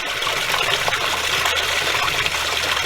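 Parrot feather plant leaves are pulled through water, giving a steady close trickling and gurgling wash with faint splashes and no voices.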